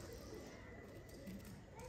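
Pigeons cooing in a loft of prized pigeons, low soft coos repeating under a steady hiss of ambient noise, faint and fairly distant throughout.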